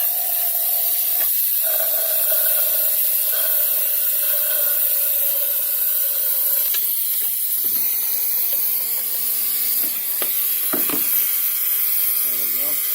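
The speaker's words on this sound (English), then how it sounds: "Turn this on and sucks out the" A Mityvac MV6830 pump draws brake fluid out of a car's brake reservoir with a steady, loud hissing whine that runs throughout, joined later by brief squeaks and knocks.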